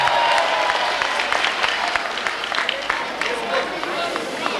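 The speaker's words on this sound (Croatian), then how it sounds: "jedan aplauz za ovaj" Crowd at an outdoor humour evening of the Bakove svečanosti festival in Imotski, 2004, breaking into sustained applause, a broad, steady roar of clapping with someone talking over it.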